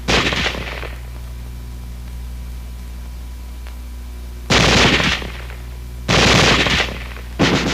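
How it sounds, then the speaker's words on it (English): Automatic small-arms fire in long continuous bursts: one burst at the start, then two sustained bursts of rapid shots later with a short one at the end, loud and close, separated by quiet hiss. "Weapons giving automatic fire will fire continuously as long as pressure is applied to the trigger or until the ammunition is exhausted."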